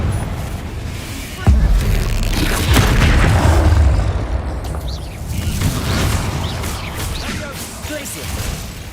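A Confringo fire spell in Hogwarts Legacy bursts with a sudden deep boom, followed by a rumbling roar and scattered whooshing impacts, as voices are heard over the combat.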